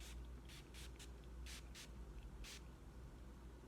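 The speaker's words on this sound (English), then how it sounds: "I do like putting finishing spray to make my skin even more glowy" A ColourPop finishing spray is misted onto the face in several short hissing bursts, quiet and close, with brief gaps between the sprays.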